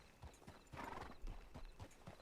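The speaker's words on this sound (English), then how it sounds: "Tabitha Thorne also has this same horse." Horse hooves clip-clop in a steady rhythm in a Wild West role-play video game, fairly faint and close, with occasional snorts from the horse.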